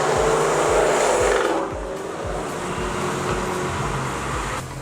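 A Ford Mustang supercar cruises at night in Mumbai, its engine a steady, close, loud rumble with road and wind noise that eases slightly partway through.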